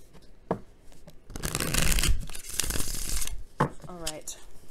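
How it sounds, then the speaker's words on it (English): A tarot card deck is shuffled in a quick riffling burst lasting a couple of seconds, with soft handling noises around it and a brief voice. "one more good shuffle and then we're ready and set to go"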